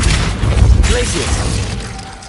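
An ice-freezing spell from the Hogwarts Legacy video game lands with a brief crackling, shattering burst over a low rumble, then thins out into a steady wash of fading hiss.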